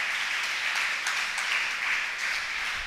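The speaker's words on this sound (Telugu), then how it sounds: "చప్పట్లు కొట్టి దేవుని నామాన్ని మహింపరుద్దాం" A church congregation claps together in steady, dense applause that holds at an even loudness from start to finish, with no voices rising above it.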